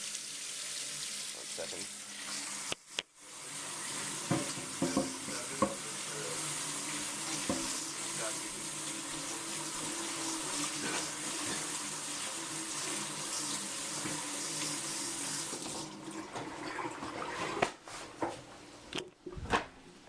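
Tap water running and splashing as a tortoise's water dish is rinsed and scrubbed in a sink, a steady broadband wash for about fifteen seconds with clunks of the dish, then quieter handling sounds.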